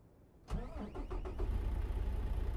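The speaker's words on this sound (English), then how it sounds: "let's go ahead and start the truck on up" Peterbilt 389 truck engine in American Truck Simulator cranks and catches, settling into a loud, steady low idle rumble that continues to the end.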